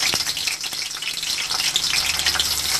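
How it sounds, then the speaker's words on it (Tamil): Green chillies and garlic cloves sizzling in hot oil in a pan, a constant bright crackling fry with small pops throughout, close and fairly loud. "மூணு டீஸ்பூன் எண்ணெய் விட்டுக்கணும். அதில் பச்சை மிளகாய் போட்டுட்டு நாலு பல்லு பூண்டு போட்டுக்கோங்க."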